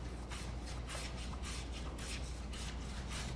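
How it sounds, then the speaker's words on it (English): A hand scraper takes very light shavings from pine held in a vise, giving repeated rhythmic rasping strokes about twice per second, close and steady. "I'm going to try to scrape this, see if I can scrape some of this pine just for demonstration purposes"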